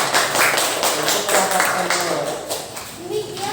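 Classroom applause from students after a group presentation, a short burst of scattered claps with some taps and voices mixed in, fading near the end.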